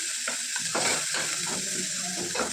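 Fresh mint and coriander leaves sizzling in hot tempering oil for Bagara rice, a steady loud crackle with light stirring scrapes throughout, no voices.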